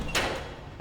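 A train door sliding open inside a video game carriage, one brief near whoosh with a short soft rumbling tail, heard alone.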